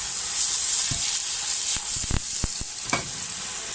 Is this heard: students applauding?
no